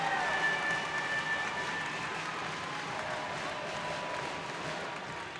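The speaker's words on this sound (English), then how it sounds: "this crowd is really starting to get into it here" Basketball crowd at an NC State vs Clemson college game cheering and applauding, a dense, sustained roar of claps and shouts that stays loud throughout with no clear voices standing out.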